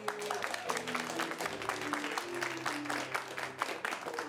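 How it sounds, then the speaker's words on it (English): An improv comedy crowd keeps a round of applause going for the players, the clapping fairly close and steady, with a faint background hum beneath it. "keep that round of applause going for Chris, Jessica, and Abby"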